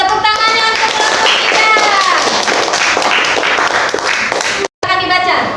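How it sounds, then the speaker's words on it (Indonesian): A group of students applauds in a classroom during a teaching practice session, giving dense, loud clapping that carries on steadily for several seconds, with voices mixed in and a brief dropout near the end. "tepuk tangannya untuk kelompok"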